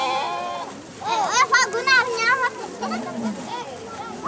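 Goats bleat repeatedly, joined by other livestock, in a Chad herd procession of thousands of cattle, goats, horses and people moving past, the overlapping wavering calls fairly close over a steady crowd murmur.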